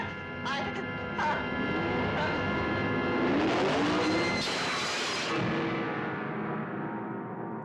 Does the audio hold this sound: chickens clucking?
no